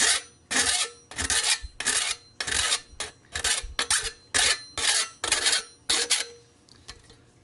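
Triangular file rasping along metal edges during a Berkey water filter build, about a dozen distinct close strokes in a steady rhythm with brief gaps between, fading slightly at the end.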